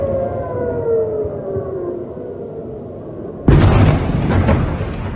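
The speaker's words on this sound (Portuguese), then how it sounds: "As sirenes soaram em várias cidades israelenses antes do amanhecer" An air raid siren wails over Israeli cities before dawn, a falling drawn-out tone, then a sudden loud rumbling burst takes over and continues, harsh and broadband, with no talk.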